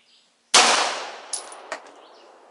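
A Beretta 92FS pistol fires one loud, sharp shot at an outdoor range, its report ringing and decaying over about two seconds, followed by a couple of faint metallic clinks.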